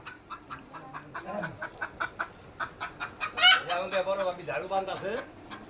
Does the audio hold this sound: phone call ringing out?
no